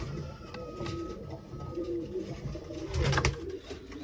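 Tumbler pigeons coo softly at a breeding loft in Gebze, a steady murmur of several birds with a few louder throaty calls, heard close and without talk.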